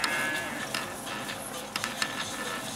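A cow lows amid farm background noise, the call fairly faint and partly masked by the busy surroundings.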